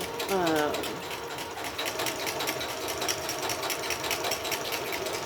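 A sewing machine runs decorative stitching on a quilt block, whirring with a steady rapid mechanical patter throughout, and a brief voice is heard near the start.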